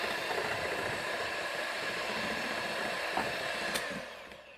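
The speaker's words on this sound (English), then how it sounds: "it allows you to whisk the whole thing up" Cake batter being whisked: a steady, even whirring hum that runs continuously and fairly quietly, with no voices, tapering slightly at the end.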